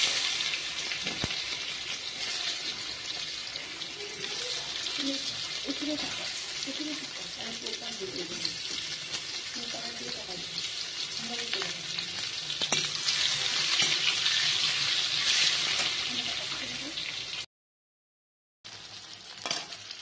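Boiled potatoes added to oil tempered with cumin fry with a strong, continuous hiss and crackle that swells toward the end, broken by a short silent gap before the sizzle resumes.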